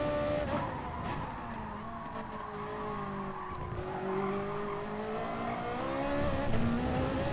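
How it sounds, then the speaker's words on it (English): A race car engine in Gran Turismo Sport roars steadily with shifting pitch and tyre squeal, loud and continuous, at speed. "The sound of this car is amazing."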